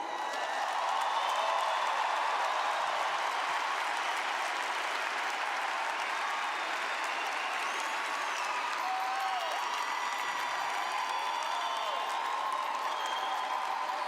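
Sustained, dense applause from a large church audience fills the space evenly and steadily, with a few faint cheers rising over the clapping.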